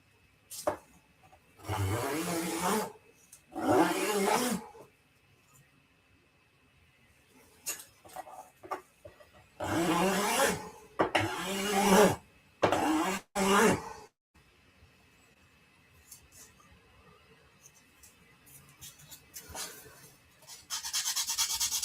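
A plastic part of a 1/72 scale Dune Atreides Ornithopter model is shaved down with a blade to fit. Bursts of close scraping and rasping come in short strokes separated by pauses, with faint clicks.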